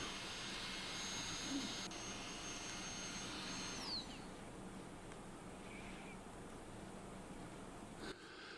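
A small, inexpensive closed vacuum pump runs for woodworking vacuum clamping, giving a steady, close, whooshing drone that shifts and eases slightly midway, then dips briefly near the end.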